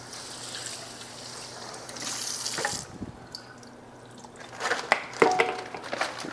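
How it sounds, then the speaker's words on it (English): Running tap water rinses food items in a kitchen sink while making pibil, a steady splashing flow that breaks into sharper drips and clatter near the end. "Gotta give them a quick rinse."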